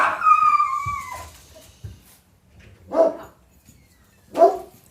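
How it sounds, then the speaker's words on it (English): A neighbour's dog barks and whimpers in a few separate bursts, moderately near, with a high whine at the start and two sharper barks later, no talk over it. "I think that's the neighbor dog I hear."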